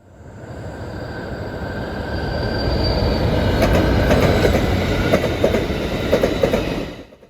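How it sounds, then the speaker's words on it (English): Amtrak 350, the midday eastbound Wolverine passenger train on the Michigan Line, rumbles past steadily with loud wheel and rail noise, clickety-clack and brief wheel squeal, swelling and holding before fading at the end. "Following 972 east would be Amtrak 350,"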